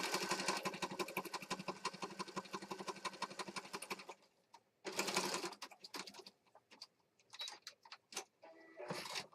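A home sewing machine stitches in a fast, steady mechanical rattle for about four seconds, then stops and restarts in short bursts as the fabric catches, with quiet gaps between runs.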